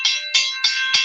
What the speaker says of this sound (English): Okay, you got to have your train bell.